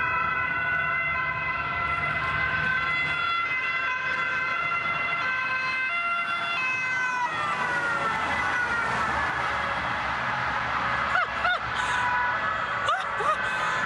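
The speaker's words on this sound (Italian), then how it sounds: "Le pattuglie si lanciano all'inseguimento dell'auto con sirene che risuonano per chilometri" Police patrol car sirens wail continuously through a chase, loud and steady, their pitch sweeping and overlapping as the vehicles pass, with road noise and a few brief sharp sounds near the end.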